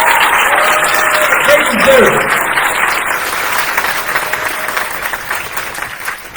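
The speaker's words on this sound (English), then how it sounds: "can we give our military just a hand of applause this afternoon" A graduation audience gives loud, sustained applause for the military, dense clapping rolling on throughout, while a voice speaks briefly over it early on.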